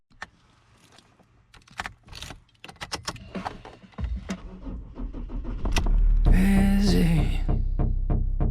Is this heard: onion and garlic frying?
no